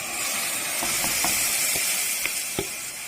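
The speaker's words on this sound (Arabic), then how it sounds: "هنروح حاطين الطماطم عليها" Tomatoes sizzle as they hit hot ghee with onion in a pan, giving a steady close frying hiss with a few soft clicks and taps of a spoon on top.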